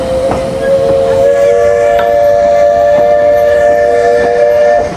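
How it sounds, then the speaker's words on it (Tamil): A steam train on a mountain railway sounds a long, loud whistle while its engine chuffs and rumbles close by as it pulls away. "ஓகே, ட்ரெயின் வெளிக்கிட்டு பாருங்கள், புகை எப்படி கக்குதுண்டு மேலே"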